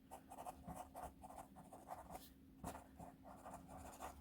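Soft pencil scratching across paper in a steady rhythm of short strokes, close and fairly quiet, with a faint hum underneath.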